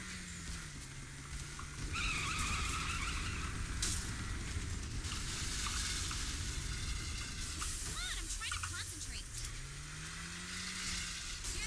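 Car in the video game Saints Row The Third driving on a flat tire, engine whine and rough scraping rumble throughout with rising and falling engine tones, while someone talks over it.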